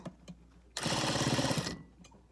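A sewing machine stitches a seam on a gown made from bed sheets, a loud burst of rapid mechanical stitching lasting about a second, with quiet handling noises before and after it.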